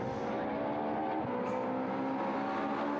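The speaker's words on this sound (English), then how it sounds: "Adam Wilcox gets a great launch up the hill." A racing car accelerates hard out of the hairpin and up the hill at Knockhill circuit, a loud sustained engine roar holding steady with no talk over it.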